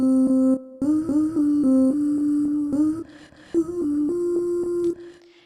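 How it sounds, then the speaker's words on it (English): Sung vocal chopped and stuttered with Logic Pro's Beat Breaker effect, a sustained tone repeatedly cut into rapid rhythmic fragments with abrupt gaps and pitch steps, loud and upfront. "using Beat Breaker to create vocal chops"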